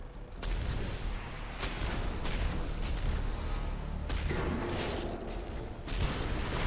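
Rapid-fire weapons from Tyranid ships in the space strategy game Battlefleet Gothic: Armada 2, dense bursts of booming fire and impacts that recur every second or so over a constant rumbling battle bed.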